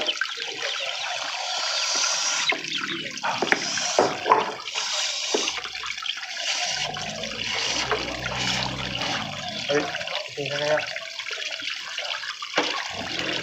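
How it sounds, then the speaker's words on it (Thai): Dishes and bowls being washed under running water, a steady close splashing stream with intermittent clinks and knocks of crockery throughout. "ก็ได้ล้างถ้วยล้างจานแบบนี้"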